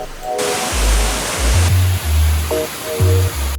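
A waterfall on the Levada do Moinho in Madeira, Portugal, fills the scene with its constant rushing roar, with deep, sustained musical tones sounding underneath.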